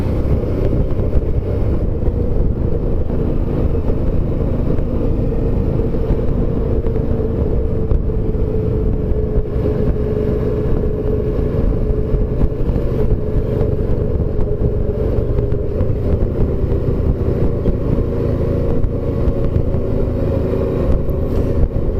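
A motorcycle cruises along the Rodoanel highway with a steady, loud engine drone and heavy wind rush over the microphone, continuous and unbroken, with no voices.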